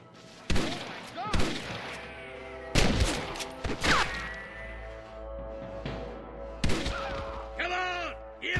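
Sharp gunshots in the video game Red Dead Redemption crack out in scattered bursts, several loud and near, mixed with thuds, debris and strained vocal grunts.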